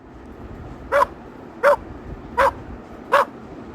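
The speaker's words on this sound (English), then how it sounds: "dog," A dog barks four times at an even, steady rhythm, each bark short and clear against a quiet background.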